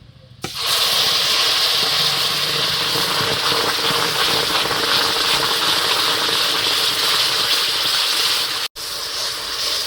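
Raw mango pulp hits hot caramelized sugar in a pan, setting off a loud, sustained sizzling hiss that starts abruptly and holds steady, with a brief dropout near the end.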